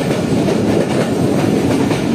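A passenger train runs near Lahore, Pakistan, a loud, continuous rumble of wheels on rails with a steady rhythmic clatter, heard close up from on board with no talking.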